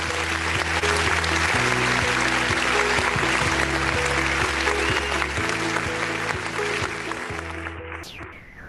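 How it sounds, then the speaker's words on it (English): Applause at a regional conference hall in Western Visayas, the clapping loud and sustained over a steady musical background with repeating tones, then fading away near the end. "A round of applause, please."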